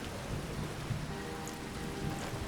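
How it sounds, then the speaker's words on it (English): Steady rain falls in Skyrim Special Edition, a modded fantasy game, as a soft even patter with faint low rumbles of thunder underneath, constant and moderately quiet throughout with no talking. "It's about to rain."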